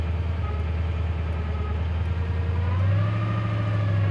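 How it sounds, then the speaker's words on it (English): A 1965 Ford Mustang Fastback engine idles steadily with a low, even rumble that swells slightly near the end. "Car idles nicely."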